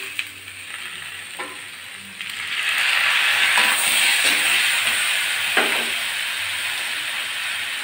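Chopped tomatoes hitting hot oil with spiced potatoes for a vegetarian aloo dum, a close steady sizzle that swells and turns louder and hissier partway through as the pan is stirred.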